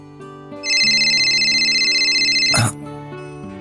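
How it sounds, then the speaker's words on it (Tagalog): Mobile phone ringing with an incoming call: a loud, close melodic ringtone with steady electronic tones plays for about two seconds, then cuts off abruptly, with background music underneath. "Bakit kaya tumatawag si Bridget?"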